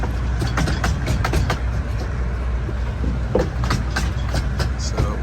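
A Romney, Hythe and Dymchurch Railway miniature train at Romney Sands station during a 95th anniversary gala, a steady loud rumble with rail clatter and intermittent clicks throughout, with faint voices mixed in.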